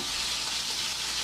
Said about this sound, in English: Anytime you're deep frying something in a pan, put the spices in it so they burn.